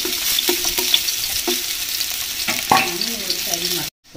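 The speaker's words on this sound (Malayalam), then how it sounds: "ഇതിലേക്ക് അതിനകത്ത് ഗാർണിഷ് ചെയ്യാനുള്ള സവാളയും കൂടെ ഒന്ന് വറുത്തെടുക്കാം." Sliced onions fry in hot oil for a fish biryani garnish, giving a steady close sizzle with occasional stirring scrapes and clinks and a brief drop-out at the end.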